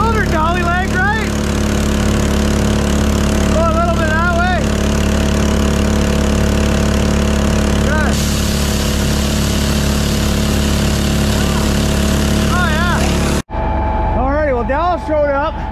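A 1980 Kenworth picker truck engine runs steadily with its hydraulic pump in gear, a loud constant drone throughout, with people talking over it before it cuts off near the end.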